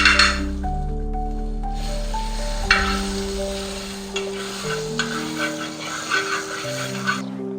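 Butter sizzles in a hot pan heated on a gas stove before pancake batter goes in; a steady, fairly soft hiss runs under loud background music throughout.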